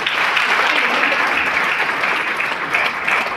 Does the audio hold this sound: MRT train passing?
no